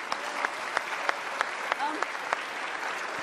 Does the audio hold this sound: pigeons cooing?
no